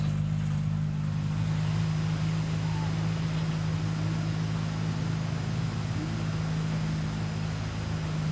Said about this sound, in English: We'll have the first of the junior sedan features rolling out onto the racetrack very, very shortly.